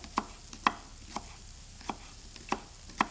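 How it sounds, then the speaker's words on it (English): Steady knife chops on a cutting board, sharp taps roughly every half second, slicing spring onion close up without speech. "I'm just going to get on with a bit of chopping."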